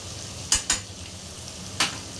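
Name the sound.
ginger-garlic paste frying in oil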